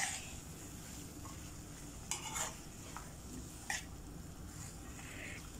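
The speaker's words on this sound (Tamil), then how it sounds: "பாகற்காயை நல்லா கிண்டி விடணும்." Bitter gourd frying in a pan and being stirred, a steady sizzle underneath with a few sharp scrapes and clinks of the spatula against the pan, close and moderately quiet, no talking.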